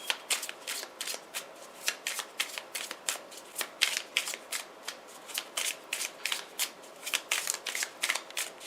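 Tarot cards shuffled in a quick run of crisp riffling bursts, close and fairly quiet, repeating steadily with no voices.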